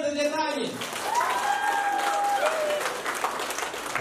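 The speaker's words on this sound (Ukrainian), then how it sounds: "Аплодисменти для Тані!" Wedding guests applauding in a banquet hall, a sustained burst of clapping from a crowd that holds steady for several seconds, with a voice and a whistle-like tone briefly heard over it.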